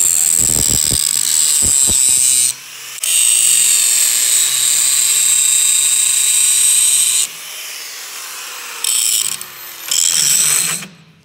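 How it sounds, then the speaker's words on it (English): An angle grinder cuts a 30 degree bevel with a sustained high whine that runs for several seconds at a time, broken by brief pauses and a few sharp knocks at the start, loud and close. "I like to keep my grinder at the same angle all the way across"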